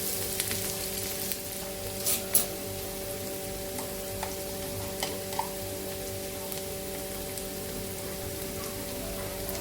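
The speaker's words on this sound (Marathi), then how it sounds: "कांदा थोडा मऊ होईपर्यंत परतून घ्यायचा." Chopped onion sautés in hot oil in a pan until soft, making a steady, soft hiss with a few faint clicks and an even electrical hum underneath. No one speaks.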